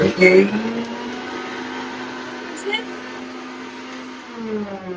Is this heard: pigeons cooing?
no